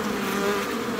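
Honey bees buzzing around a hive in late summer make a dense, steady drone throughout, loud and close, with no voices.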